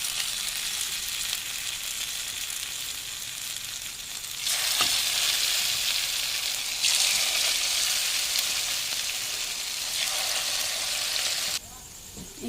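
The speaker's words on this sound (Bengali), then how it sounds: "পকোড়াগুলো ভাজার জন্য কড়াইতে তেল দিয়েছি, তেলটা গরম হয়ে গেছে" Cabbage pakoras deep-frying in a pan of hot oil give a loud, steady sizzle that swells as fresh batter drops in, running continuously to near the end with no talk.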